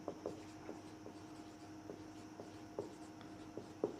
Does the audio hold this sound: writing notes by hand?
yes